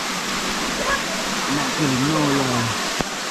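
A river flows with a steady broadband rush, loud and close, while someone speaks over it briefly and a sharp click cuts in near the end.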